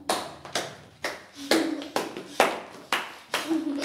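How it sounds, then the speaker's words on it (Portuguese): Hands clapping at a children's playtime activity, a series of sharp separate claps in an irregular rhythm, roughly two per second, close and distinct, with a faint voice underneath. "os amigos que tiverem espalhado podem bater palmas para ela seguir o som"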